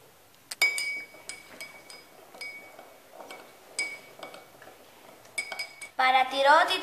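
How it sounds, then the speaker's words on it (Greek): A metal spoon stirs water and salt in a drinking glass, giving repeated bright clinks against the glass wall, scattered at first and then a quicker, louder burst of clinking and swirling at the end. "Στο δεύτερο ποτήρι θα ανακατέψουμε νερό με αλάτι."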